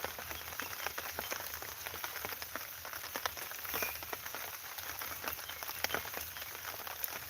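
Steady rain pattering on the ground and a tarp in the backwoods, a dense, even hiss with scattered close drops, continuous and moderately loud throughout.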